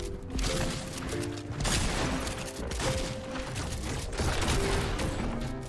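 Sideways rifle fire in the video game Fortnite comes as quick repeated bursts of shots over busy game noise, fairly loud, with no voices heard.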